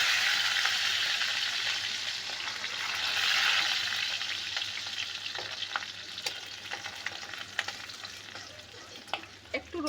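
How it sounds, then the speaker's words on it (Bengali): Finely chopped garlic sizzles steadily in hot oil while cooking egg do pyaza, a dense crackling hiss that swells midway, with occasional sharp pops and light utensil clicks toward the end. "এবার রসুন কুচি দিয়ে দিই।"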